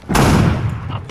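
A gunshot in the video game DayZ, one loud close blast with a rumbling decay that fades over about a second.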